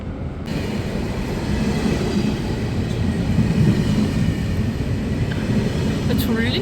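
Steady rumble and rhythmic clatter of a train riding on rails, heard from inside a passenger car on a trip to Gwangju, continuous and close with faint background voices.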